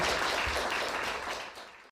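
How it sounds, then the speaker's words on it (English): Applause from an audience at a live career coaching session, a close, thick burst of clapping that fades out quickly toward the end. "Just clap for that."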